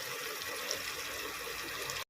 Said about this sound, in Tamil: அளந்து தண்ணி ஊற்றிட்டேன்.